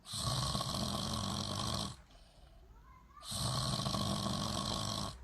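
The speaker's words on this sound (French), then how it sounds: "Regardez comment un Camerounais ronfle en live." Loud, rasping snores from a man, two long drawn-out breaths separated by a quieter pause, heard close up.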